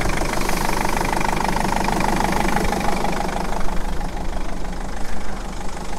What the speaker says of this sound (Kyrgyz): Азыр от алдырып көрүп, моторлорун текшерип карап атабыз.